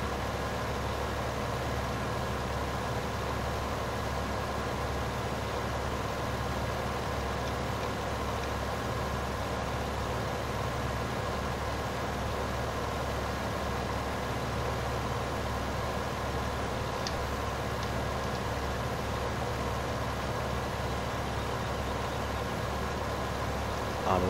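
Steady low engine drone of a tractor pulling a sprayer uphill in Farming Simulator 15, a continuous, even hum with no talk over it.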